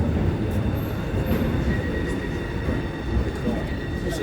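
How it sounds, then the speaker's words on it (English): A new DLR practice train, not yet in passenger service, rumbles past close by with a steady low roar, wheel noise and brief high squeals. "Here's one of the practice trains that they're doing at the moment."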